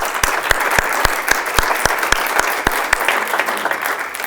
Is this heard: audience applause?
yes